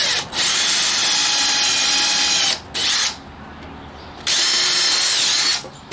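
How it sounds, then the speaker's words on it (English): A power drill whines loudly in three bursts, the motor spinning up and cutting off with short pauses in between. "If I can get the drill down in there"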